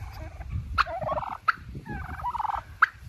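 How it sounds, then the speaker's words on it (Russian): A domestic turkey gobbles three times in sharp, loud bursts spaced about a second apart, set against steady low farmyard rumble and bird chatter. "индюк это очень красивая, умная птица"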